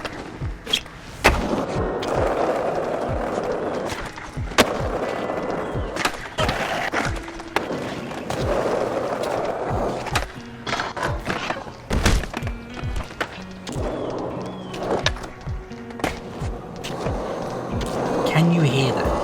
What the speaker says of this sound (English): You can feel the rumble underneath your boards at high speeds thanks to the perfect amount of vibrations